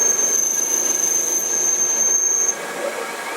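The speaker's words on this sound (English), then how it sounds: "See, it's roughing the taper out." A Denford ORAC CNC lathe roughs out a taper, giving a steady mechanical whine with a sharp high-pitched cutting tone that holds for a few seconds and then stops, close and fairly loud.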